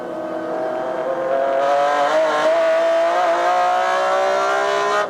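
Onboard a BMW M3 E46 GT2 race car at speed during the Petit Le Mans race, its engine wailing loudly and steadily with the pitch climbing through a gear, tyre and wind noise underneath.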